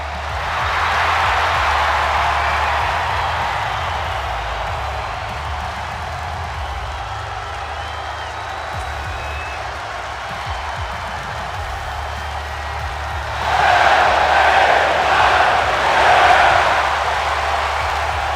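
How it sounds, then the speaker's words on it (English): A big arena crowd roars steadily in the wrestling video game WWE 2K25, a broad sustained din that swells louder near the end. "Well, the roar of the crowd tells you all you need to know."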